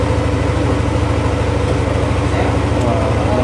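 Vehicle engine idling at normal RPM during a tune-up, a loud, close, steady low rumble with even pulsing that holds constant throughout.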